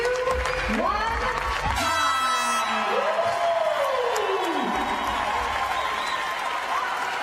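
At a CrossFit competition, a large crowd cheers, whoops and applauds steadily throughout, loud and continuous, while an announcer's voice rises above it.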